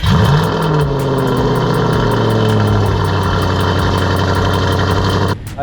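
A naturally aspirated 4.2-litre petrol V8 in an Audi RS5, running a stock exhaust, idles with a deep steady burble and rises briefly in a short rev, close and loud, ending with a sudden cut.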